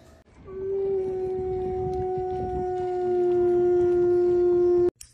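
A dog lets out a long, steady howl on request, a sustained tonal note held for about four seconds, close and loud, then cutting off abruptly.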